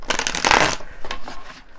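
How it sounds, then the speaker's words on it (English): A deck of tarot cards is shuffled by hand, a dense riffling flutter for under a second followed by softer scattered card taps, close to the microphone. "I swear I know how to shuffle my cards."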